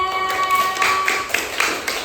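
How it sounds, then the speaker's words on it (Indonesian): Classroom applause for a group during a teaching session, a brief cluster of claps and taps over a held tone, close and moderately loud. "Tepuk tangan untuk kelompok 3."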